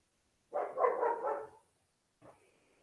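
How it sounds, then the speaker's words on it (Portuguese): A pet dog barks in the background during a spoken class, a quick cluster of barks followed after a pause by one short, fainter yelp, with no talk over it. "Este é o meu cachorro, se vocês ouvem ao fundo"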